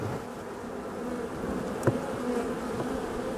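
Honeybee colony humming inside a dry, clean hive during the first spring inspection, a dense continuous close buzz with one brief sharp knock partway through.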